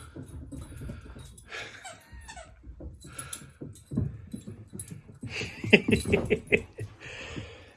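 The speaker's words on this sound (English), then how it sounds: "We get a bit of a dog jam in the doorway." Several dogs crowd a house doorway, whining and whimpering with pattering paws and scuffles, growing busier and louder toward the end, with a little human laughter mixed in.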